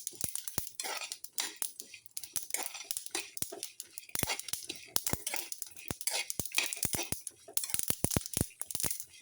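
Seeds pop and crackle rapidly while roasting in a pan, a dense, irregular stream of sharp little snaps close up, with some scraping of the pan mixed in and no talking.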